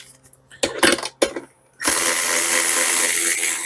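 A power tool tightens a seat bolt on a VW Beetle during a custom lowback bucket seat install, a few short whirring bursts followed by a loud, sustained buzzing run, close up.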